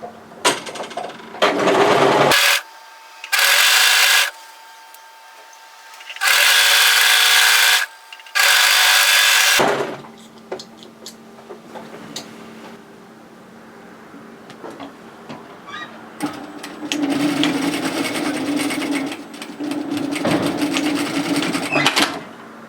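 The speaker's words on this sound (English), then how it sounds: "we're going to sew the side seam exactly the way we did before, match the notches and just overlock down" An overlocker runs a skirt side seam in several loud, steady bursts separated by short pauses, followed by quieter rustling and handling of fabric.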